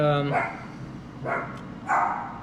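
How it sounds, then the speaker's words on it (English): A dog indoors lets out a high whine followed by two sharp barks, close and fairly loud, spaced about a second apart. "My dog's being nuts today."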